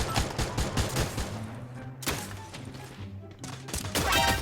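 Bursts of rapid automatic gunfire in the battle-royale video game Free Fire, loud and close, several volleys separated by brief gaps, with no talk.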